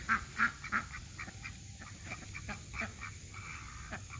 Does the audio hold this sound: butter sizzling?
no